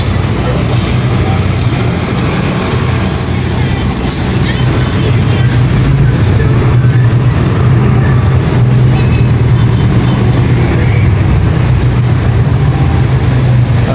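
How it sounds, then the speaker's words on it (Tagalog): Road traffic rolls through a small coastal town in Bohol, a loud, continuous wash of engine rumble and tyre noise with no gaps, steady and close throughout. "Traffic."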